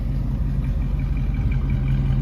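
A 1966 Ford F100 pickup engine runs close by, a low rumbling idle with a couple of light revs that briefly lift its pitch.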